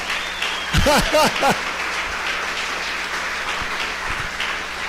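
A church congregation applauds during a sermon, making a steady, even wash of clapping that runs the whole time, while a voice calls out briefly over it near the start.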